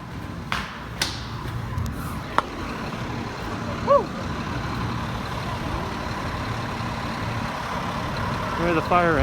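Fire engines idling outside a hotel in Niagara Falls after a false fire alarm, a steady low rumble of diesel engines with a few brief clanks and squeaks, and voices talking faintly nearby.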